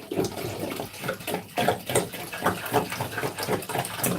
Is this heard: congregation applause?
no